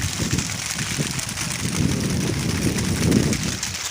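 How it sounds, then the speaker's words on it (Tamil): Light drizzle begins to fall, a steady, close patter of raindrops that stays even and continuous without a break. "மழை பெய்ய ஆரம்பிச்சிருச்சு."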